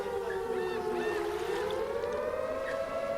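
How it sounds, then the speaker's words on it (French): Air raid sirens wail across Israel in a sustained, steady rising tone, loud and continuous with a slow upward pitch sweep, no voices over it. "Rav Fison, les sirènes retentissent encore"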